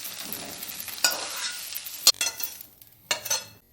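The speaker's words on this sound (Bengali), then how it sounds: "এবার এই তেলে সোয়াবিনটা একটু নেড়ে নেব" Soybean chunks are stirred in hot oil in a kadai. A soft, continuous sizzle runs throughout, broken by three sharp scraping strokes of the spoon against the pan, heard close up with no talking.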